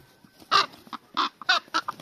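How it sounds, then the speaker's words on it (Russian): A chicken clucks close by in short, uneven bursts, a few sharp calls spaced over a couple of seconds. "Курица, беги!"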